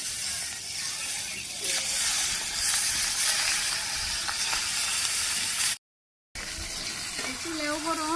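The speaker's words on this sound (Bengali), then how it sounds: "মাছ ভাজি হয়ে গেছে গা।" Fish fried in oil in a wok over a wood fire, a loud continuous sizzle and hiss that cuts out briefly, with a voice talking over it near the end.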